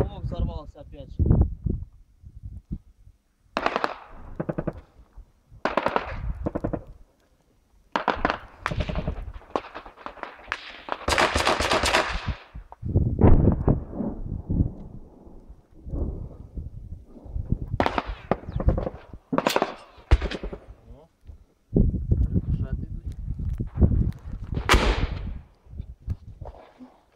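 Combat gunfire at Donetsk airport comes as sharp, cracking shots and short bursts scattered irregularly across the clip. Tense voices talk between and over the reports.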